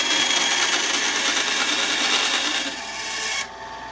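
A bandsaw cutting a piece of Lexan in a robotics team workshop, giving a loud continuous buzzing rasp that stops abruptly near the end and leaves a quieter motor hum.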